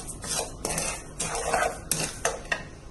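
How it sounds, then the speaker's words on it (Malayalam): A spoon stirs roasted semolina (rava) and sugar in a pan, with irregular close scraping and clinking strokes of metal against the pan, a few louder knocks among them. "ഇതൊന്ന് ഇളക്കി കൊടുക്കാം."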